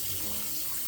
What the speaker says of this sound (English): I'm having a hot water run because I'm going to use my water flosser too